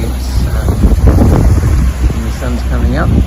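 Wind buffeting a microphone aboard a sailing boat at sea, heard as a loud, gusty roar with water sounds underneath and a voice speaking over it.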